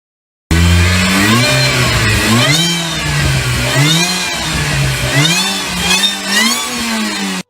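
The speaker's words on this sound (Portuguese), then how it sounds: "Eles simplesmente colocaram um supercharger nesse motor 4 cilindros." Supercharged four-cylinder engine of a Subaru Vivio RX-R rally car revving hard, close and loud, its pitch climbing and dropping through several repeated throttle blips with no talking.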